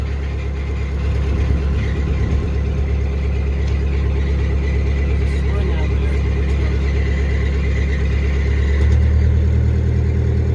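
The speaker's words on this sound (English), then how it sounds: "It's throttling up some when you do that." A Scenicruiser bus engine idles with a deep, steady diesel drone, then throttles up near the end into a louder, heavier rumble, heard close with people talking.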